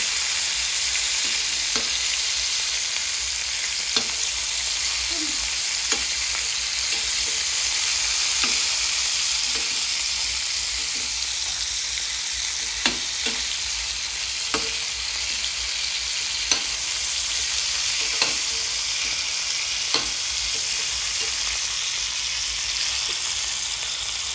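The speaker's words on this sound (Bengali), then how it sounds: "হলুদ দিয়ে একটু নাড়াচাড়া করে নেব, মানে হালকা একটু ভেজে নেব" Chicken pieces fry in a pan with salt and turmeric, giving a loud, steady sizzle throughout. Occasional light scrapes and taps come from stirring, and no voices are heard.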